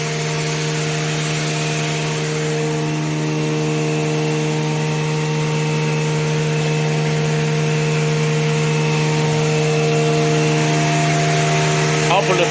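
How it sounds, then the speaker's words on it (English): A DaCoo Z-fold hand towel folding machine with folding and cutting rollers and a servo motor runs nearby, a loud steady mechanical hum with strong sustained tones and no pauses. "Output from the right side of the folding machine here."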